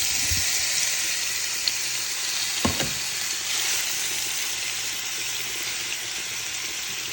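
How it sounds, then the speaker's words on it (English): Steak frying in hot grease in a pan gives a steady bright sizzle, with a few soft clicks and thumps as the meat goes in. "now that our grease is hot, we're gonna add our steak in"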